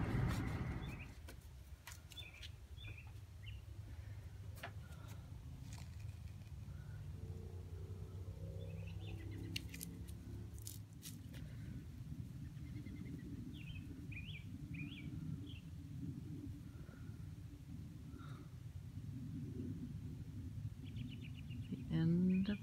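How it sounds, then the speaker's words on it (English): Faint birds chirp and twitter intermittently in the distance over a low, steady rumble of outdoor background noise. "and the birds are still singing."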